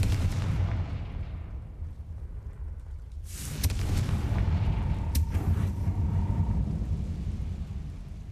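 Repeated fiery spell blasts in a wizarding action game go off as deep, rumbling booms, a sharp crack landing midway and a sustained roar continuing after, loud and with no talking.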